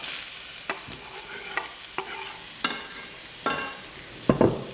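Onions sizzling in extra virgin olive oil at the start of an Italian soup, a constant hiss of frying broken by several distinct scrapes and taps as they are stirred, close and alone.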